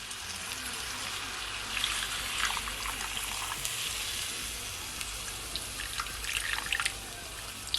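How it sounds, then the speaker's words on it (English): Water poured into a pot of Jamaican pot roast stewing pork, a steady broadband hiss and sizzle with trickling that runs continuously and fairly loud, no voices. "And I'm also gonna add at least 1/2 cup of my water."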